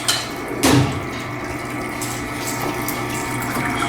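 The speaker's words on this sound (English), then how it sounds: "Let's turn off my water." Water runs steadily from a tap in a continuous rushing stream, with a brief louder clunk early on and no talking.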